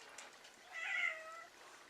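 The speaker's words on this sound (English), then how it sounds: "Now my cat's coming to say hi." A house cat gives a single drawn-out meow, fairly close and soft, in a quiet indoor room during fly tying, with no talk over it.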